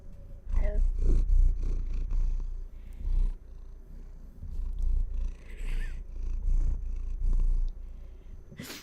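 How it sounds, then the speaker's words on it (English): A pet cat named Star purrs close to a microphone, a loud, continuous low rumbling purr with rhythmic breathing pulses, while someone talks softly over it at times. "maybe I'll move the microphone there so you can purr into the microphone"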